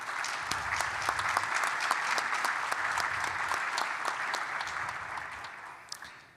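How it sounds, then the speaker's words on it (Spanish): Sustained audience applause greets panelist Angela Collins at a customs brokers panel, a dense steady patter of many hands that holds for several seconds before fading at the end. "para quien pido un fuerte aplauso"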